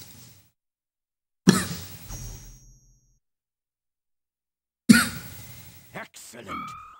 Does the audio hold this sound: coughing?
yes